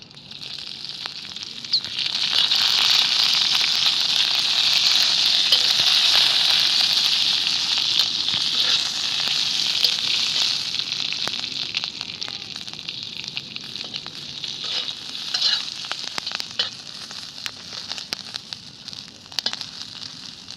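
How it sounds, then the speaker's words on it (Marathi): Green chillies fry in hot oil in a home kitchen, a continuous bright sizzle that swells early then settles into softer crackling and popping. "थोडस मिरच्या तळायला तेल टाकून घेणार आहे"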